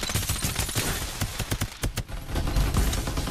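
Bursts of rapid automatic gunfire in the battle royale video game Farlight 84, loud, sharp shots in quick strings over constant low game noise, with brief pauses between volleys.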